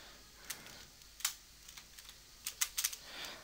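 Close, sharp clicks of a loud computer keyboard during gameplay, with scattered single keystrokes and a quick cluster of taps toward the end, no voices over them.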